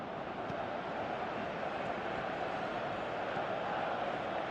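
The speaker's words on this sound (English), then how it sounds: "Crowd appreciates good football all round there." A dense stadium crowd roar from a football video game on a PS3 holds as a steady, even wash of noise with no clear peaks.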